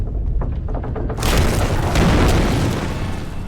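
A flashbang grenade bursts in a video game with a loud, sudden boom, and a harsh hissing roar follows and carries on to the end.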